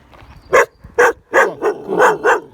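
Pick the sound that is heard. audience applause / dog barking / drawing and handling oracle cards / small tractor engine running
dog barking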